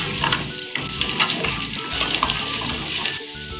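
Cumin, garlic, mustard seeds and curry leaves frying in hot oil for moong dal with methi, giving a dense continuous hiss and sputter with scattered pops, close and steady, with no voices.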